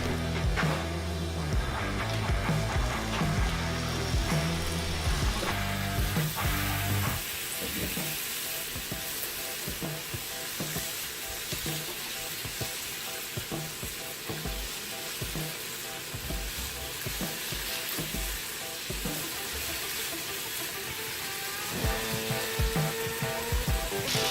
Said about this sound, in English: we're gonna crisp these hash browns nicely golden brown